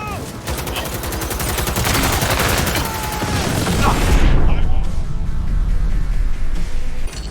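Heavy sustained automatic gunfire in the video game Cyberpunk 2077, loud and dense, rattling continuously for several seconds amid explosive booms and mechanical clatter.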